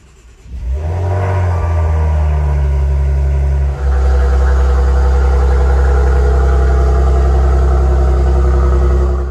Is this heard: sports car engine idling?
yes